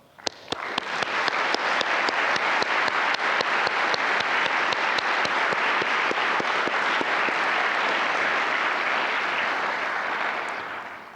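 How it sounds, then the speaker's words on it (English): A large conference audience applauds inductees at a visualization academy welcome session, a loud, dense, sustained wash of clapping that swells quickly, holds for about ten seconds and fades at the end. "if they'd stand for a round of applause"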